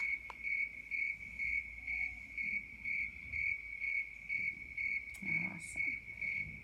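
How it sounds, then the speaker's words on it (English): A single cricket chirps in a steady, evenly spaced pulse, close and clear against a quiet dark background, with a brief rustle near the end. "the cricket is a crafty critter"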